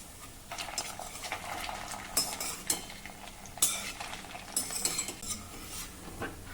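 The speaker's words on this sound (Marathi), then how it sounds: "ह्या बट्ट्या आपल्याला अलटून पलटून सर्व बाजूनी शालो फ्राय करून घ्यायच्या आहे." Battis shallow frying in ghee in a pan while being turned, with a low sizzle under repeated metallic scrapes and clinks of a utensil against the pan, close by and without speech.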